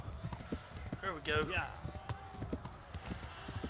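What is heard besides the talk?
horse galloping hooves in Kingdom Come Deliverance video game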